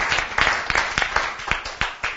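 Studio applause on a television sports talk show about a youth cycling Grand Prix: a small group claps in a quick, even rhythm for about two seconds, with no talk over it.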